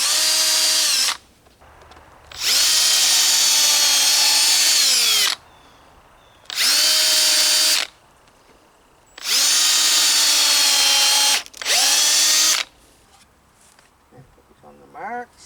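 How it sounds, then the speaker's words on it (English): A power drill whines in several loud bursts of a few seconds each, separated by quieter pauses, close up and harsh as it pre-drills hemlock wood. "So I like to pre-drill this hemlock."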